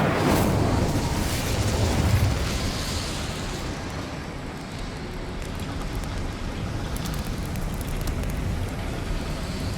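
An Incendio fire spell in Hogwarts Legacy erupts in a loud whooshing burst of flame, then settles into a steady roaring, crackling fire that continues at a constant level with no voices.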